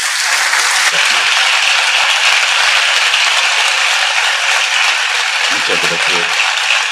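Sustained audience applause for a professor introduced at a forensic science lecture on the Shroud of Turin and the Sudarium of Oviedo, dense and steady throughout with a brief voice near the end.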